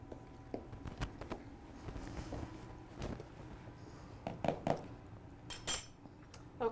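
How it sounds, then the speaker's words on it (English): Dry ingredients and spices are stirred in a bowl with a utensil, giving soft scrapes and irregular clinks against the bowl, fairly quiet and close. "I like to mix the dry ingredients to make sure that all the spices are mixed in"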